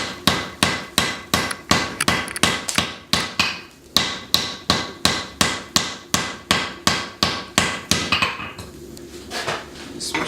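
Steady hammer blows on hot steel as a hatchet is forged with a cross peen hammer, roughly two strikes per second, loud, close and ringing, with a brief pause near the end.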